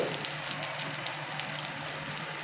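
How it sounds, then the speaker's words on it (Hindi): Fish fingers deep frying in hot oil give a steady, soft, close sizzle with scattered tiny pops and crackles throughout, no talking. "और जब तक ये फ्राई हो रहे हो ना"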